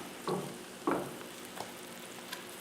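Buttered bread laid butter side down in a pan preheated to medium for a fried egg, tomato and cheddar melt, giving two soft hissing touches followed by a faint, quiet sizzle.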